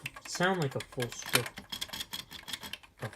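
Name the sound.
typing on Commodore Plus 4 keyboard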